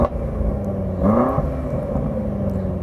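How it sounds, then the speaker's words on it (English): A BMW M5 Competition engine revs once in a short, loud burst, rising and falling over a steady idle rumble, with no talking. "Go on, rev it up."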